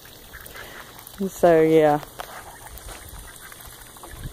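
A duck or goose near water lets out one loud, close quack-like honk lasting about half a second, with a brief lead-in call just before it, under a few words of a woman's speech.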